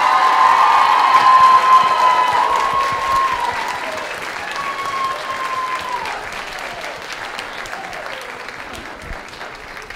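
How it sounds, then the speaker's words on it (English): Loud applause and cheering from an audience at a college cultural night showcase, steady at first and slowly fading over ten seconds, with a few voices calling out in the crowd. "I want to give another round of applause for the exec team"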